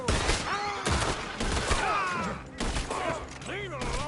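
Gunfire crackles in Red Dead Redemption 2 as shots are fired at an incoming coach, with dense, overlapping bursts and voices calling out amid the fight.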